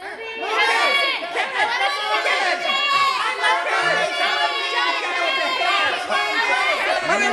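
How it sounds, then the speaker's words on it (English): A crowd of grade-school kids at a church children's program cheer and shout together, a loud, sustained mass of high excited voices with whoops and squeals lasting several seconds. "Start cheering now."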